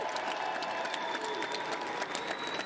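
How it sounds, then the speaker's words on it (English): Sustained applause from an audience at the 2018 Ohio Division I high school ice hockey state championship, honoring the players; a steady, dense patter of many hands clapping at moderate distance, with faint crowd noise underneath. "Let's give them one more big round of applause."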